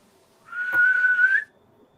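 A single sustained whistled note lasting about a second, clear and fairly close in an otherwise quiet room in a reputedly haunted inn, with a brief soft knock near its start.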